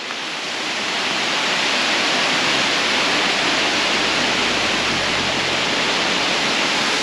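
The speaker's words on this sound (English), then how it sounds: "I've literally been chasing waterfalls." A roadside waterfall on a mountain stream in Wales roars loud and close, a dense, steady rush of falling water that swells in the first second and then holds constant.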